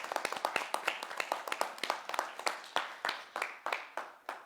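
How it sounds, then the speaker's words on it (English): Applause at a youth social housing information session, sounding like a small number of people clapping close by, with distinct individual claps in a quick, slightly uneven rhythm, fairly quiet overall. "Let's give that a round of applause."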